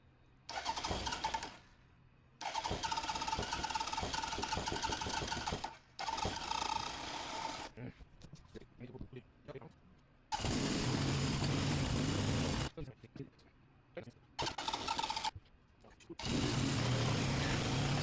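A 1977 Honda CB750K motorcycle engine runs in repeated loud bursts separated by short pauses, its revs rising and falling as it is adjusted without the choke.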